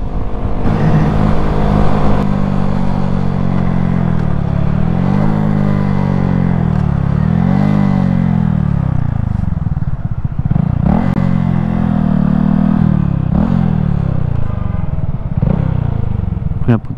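A Honda Grom motorcycle ridden on the road, its small engine droning loud and close as it rises and falls through several accelerations and gear changes, with some wind rush.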